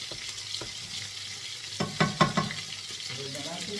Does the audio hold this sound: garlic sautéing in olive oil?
yes